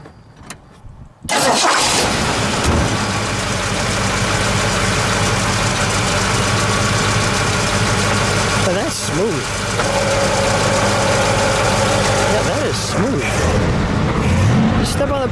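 A 1971 Ford Mustang convertible with a 429 Cobra Jet V8 fires up and settles into a loud, close, rumbling idle through mufflers, with brief voices heard over the engine.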